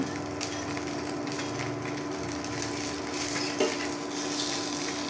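Ghee-topped potato kulcha being turned and stirred in a frying pan, with a steady, even sizzle and soft scraping of a utensil on the pan, close and continuous with no voices.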